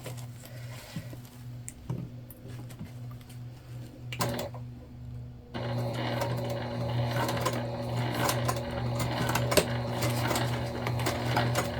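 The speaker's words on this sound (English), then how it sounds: "we're going to sew at the full seam allowance given now at this point" A sewing machine stitches a full seam allowance on a multi-panel tote bag, starting with short hesitant bursts and clicks, then settling into a steady close hum of continuous stitching.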